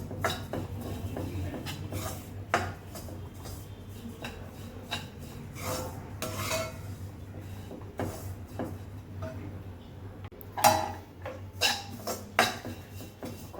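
Desiccated coconut being stirred and roasted in ghee in a pan, a steady soft scraping and rasping of a spoon against metal with occasional sharper clinks, close and alone without talk.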